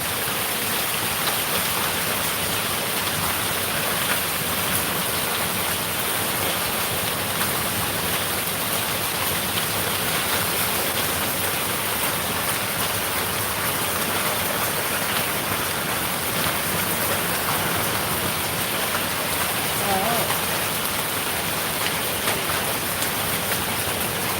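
Steady, heavy rain with hail pours down without a break, a dense even hiss with no voices.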